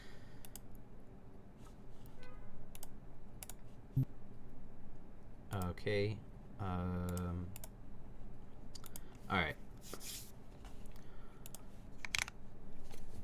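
Typing on a freshly built Squid 60 mechanical keyboard: scattered clicky keystrokes, broken up by a person speaking briefly.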